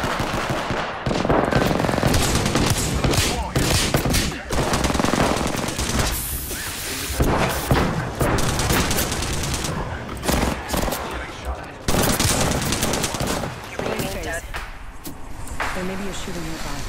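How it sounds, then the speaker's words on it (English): Rapid automatic gunfire in Apex Legends crackles in dense, loud bursts throughout, with short pauses between volleys, while players talk over the shooting. "There may be a shooting nearby."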